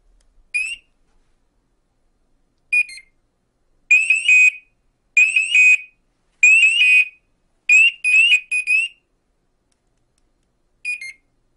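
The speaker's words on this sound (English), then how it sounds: "The red alarm button activates a full alarm mode whether the SCBA is pressurized or not." An MSA AirHawk MMR SCBA breathing apparatus in full alarm mode sounds loud, shrill electronic warbling chirps. They come in short repeated bursts, some doubled, separated by silence.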